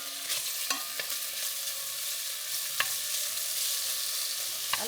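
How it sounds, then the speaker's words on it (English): Bacon frying in a pot, a steady bright sizzle with occasional sharp pops and clicks from stirring, close and alone without talk. "Gonna get the bacon going"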